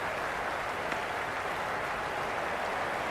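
A stadium crowd in the Cricket 26 video game applauds and cheers, a dense, even roar of clapping that holds steady from start to finish.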